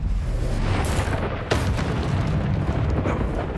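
Confringo explosion spell in a Hogwarts video game, a loud booming blast with a sharp burst near the start and another crack midway, followed by a rumbling roar.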